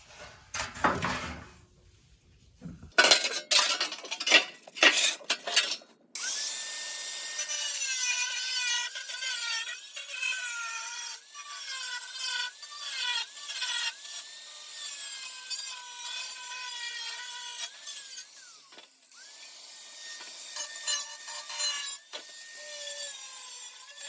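A 1991 Honda Civic body patch panel gets its edge cut off. After a few loud, choppy bursts, a long run of close, steady rasping cutting follows with small stops and restarts.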